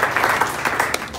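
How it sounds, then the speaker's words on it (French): Congregation clapping and cheering in a church service, a dense steady wash of applause filling the whole short moment at close range, with no speech over it. "Acclamons très fort le Seigneur."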